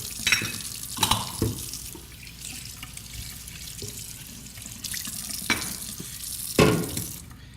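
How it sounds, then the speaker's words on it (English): Espresso equipment rinsed and scrubbed under a running tap, with steady water flow punctuated by several sharp clatters and splashing bursts, close and alone. "clean and rinse everything thoroughly, scrubbing it down."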